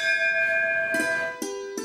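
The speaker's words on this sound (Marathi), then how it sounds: "1948 सालची मोठी पितळी घंटा आहे।" A large brass temple bell dating from 1948 rings with a long, shimmering hum of steady tones, then is struck again twice in quick succession, each hit a sharp metallic clang near and clear.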